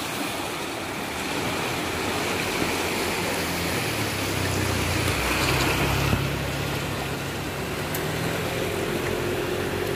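River floodwater rushes through the flooded Kampung Bugis in Tarakan. The flow gives a steady, broad, churning roar that stays constant throughout, with no voices.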